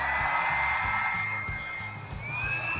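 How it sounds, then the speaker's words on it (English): A travel blow dryer set to high heat blows a steady, loud airflow with a constant motor whine, running alone and close by for the whole stretch. "I put my blow dryer on high, and I don't put it on cool."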